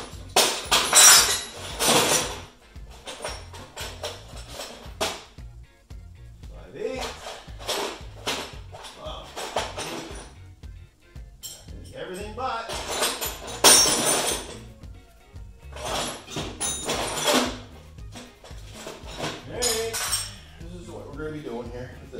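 Metal wrenches clink and clatter while being picked up and sorted during work in the engine bay of a 1965 Thunderbird convertible, with sharp irregular metallic taps, close by, and someone talking between them.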